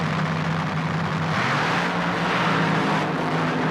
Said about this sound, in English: The final race of the day, Top Fuel Eliminator.